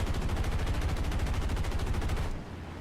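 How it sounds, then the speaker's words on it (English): Anti-aircraft artillery in War Thunder, heard from a B-25J-30 Mitchell bomber, pounds out a fast, even string of rapid shots at moderate loudness that stops abruptly near the end, leaving a low engine drone. "You'll notice we can hear some AAA firing off."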